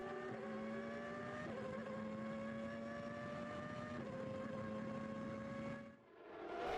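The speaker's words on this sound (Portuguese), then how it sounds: "E agora um pouco do ronco do motor Peugeot, com Martin Brundle na 10ª posição." A Peugeot Formula 1 racing engine at the 1994 Imola race roars steadily at high pitch, its tone shifting slightly as gears change, then dips briefly near the end before climbing again.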